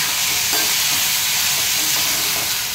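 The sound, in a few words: stirring boiled pasta into onion tomato masala in a pan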